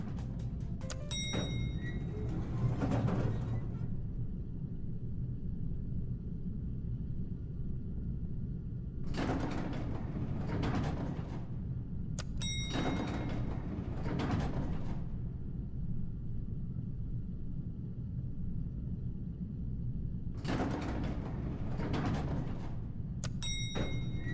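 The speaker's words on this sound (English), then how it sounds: "having a different door sound effect each time" Three separate door sound effects from a video game sound in turn, each a few seconds of sliding and thudding with sharp clicks, set over a constant low hum. Each one sounds slightly different from the others.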